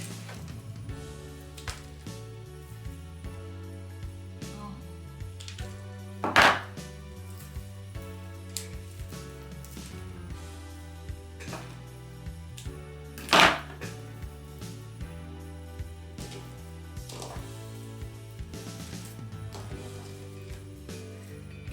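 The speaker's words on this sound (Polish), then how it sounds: "A co nam tu nie odpowiada, można podocinać." Greenery for a Christmas wreath is trimmed with scissors, giving two loud, sharp snips far apart over soft rustling and handling noises, close and otherwise quiet.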